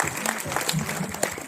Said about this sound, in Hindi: तालियां थोड़ी